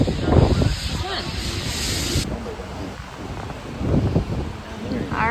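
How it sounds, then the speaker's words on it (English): Strong wind buffets the microphone on an open cruise ship deck during an autumn transatlantic crossing, a loud rushing roar with gusts, while people talk intermittently over it. "that is the wind that you're hearing."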